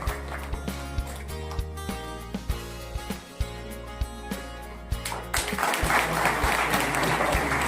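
Applause for an honoree at a felicitation ceremony at Girls Higher Secondary School in Baramulla, beginning under steady rhythmic thumps and tonal music, then swelling into dense, loud clapping toward the end.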